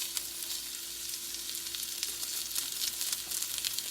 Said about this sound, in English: we've preheated a cast iron skillet with oil in it, and we're going to take and place our ribeye